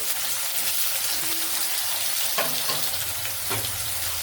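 Potatoes frying in oil in a kadai for a paneer masala curry, a steady dense sizzle like rain that holds loud and unbroken throughout, with a few faint knocks of a utensil, close and without voices.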